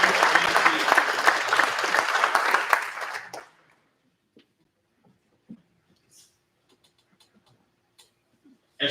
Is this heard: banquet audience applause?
yes